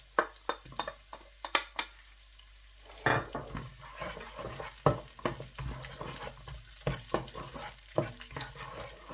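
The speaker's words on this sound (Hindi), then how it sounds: "30 सेकंड के लिए आपने इसी तरीके से लहसुन और प्याज को पकाना है।" Garlic and onion sizzle in a pan with frequent clacks and scrapes of a utensil stirring, the frying hiss steady and fairly close throughout.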